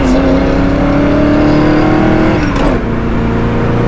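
A 1968 Camaro SS cruises down the highway at about 60 mph and 2,500 RPM, its steady engine drone loud and close throughout, with a brief shift in pitch near the end.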